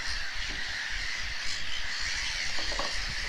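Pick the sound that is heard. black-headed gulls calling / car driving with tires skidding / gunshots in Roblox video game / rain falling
black-headed gulls calling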